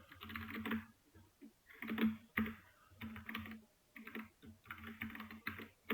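Code being typed on a computer keyboard in quick bursts of clicky keystrokes, close and fairly quiet, with short pauses between the runs of typing and no talking.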